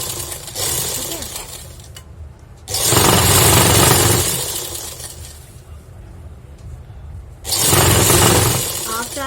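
A sewing machine stitches a fabric strip onto an umbrella skirt with a presser-foot-width seam margin, running in two loud, steady bursts separated by a quieter pause, close by with no talking.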